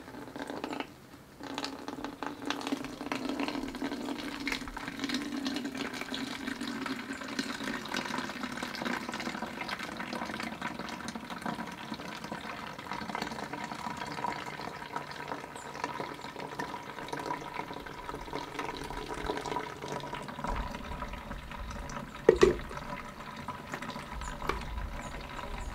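Liquid poured through a cheesecloth-covered strainer, a soft continuous trickling and splashing that goes on steadily for a long stretch, quiet and close, with one brief sharper clink near the end.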